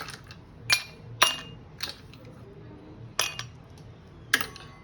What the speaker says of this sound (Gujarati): પહેલાં આપણે ફર્સ્ટ ગ્લાસમાં છે આઈસ એડ કરી દઈશું